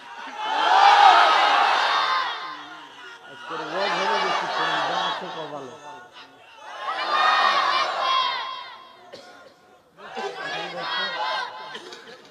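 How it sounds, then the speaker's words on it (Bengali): A crowd gathered at an Islamic religious sermon in Bangladesh loudly chants the takbir in four long, swelling group shouts, each rising and fading with short pauses between. "জোরে তাকবীর দেন তো।"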